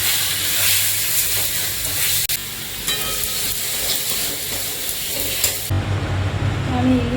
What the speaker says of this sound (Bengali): রসুনটা লাল হয়ে গেল, এবার আমি শাকটা দিয়ে দেবো।